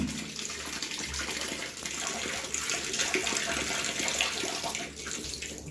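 Water runs steadily through a float valve in a toilet cistern, a soft continuous splashing rush that holds evenly at moderate loudness throughout.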